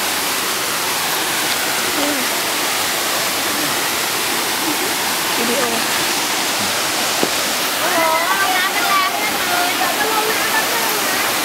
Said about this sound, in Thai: น้ำตกจิ๋ว